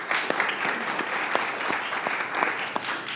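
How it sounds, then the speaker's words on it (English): An audience at a Capitol Hill briefing on professional learning welcomes a speaker with steady, sustained applause of many hands, a dense even clatter filling the room without a break. "A round of applause."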